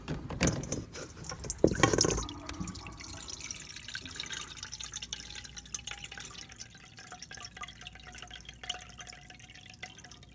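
Water drained from an overflowing Bosch dishwasher splashes and trickles into a sink, starting with a louder gush then settling into steady dripping and draining, fairly quiet and close.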